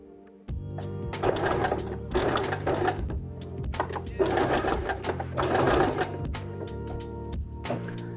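Sewing machine stitching a 2 cm seam along the edge of a cradle mattress, running in several bursts of steady rapid whirring with short pauses between, close and fairly loud.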